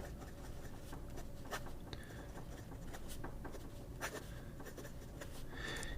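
A fine-nib pen scratches across paper in steady, close strokes with faint scraping, punctuated by a few brief sharper ticks of the nib against the page.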